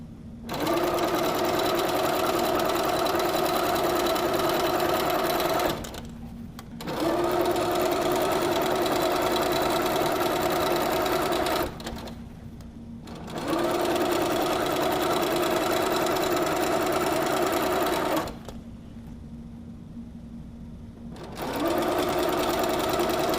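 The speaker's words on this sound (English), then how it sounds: "Almost got all of our strips sewn together." Sewing machine stitching quilt strips together, a loud steady mechanical whir running in three long bursts, separated by short pauses with a low hum between them.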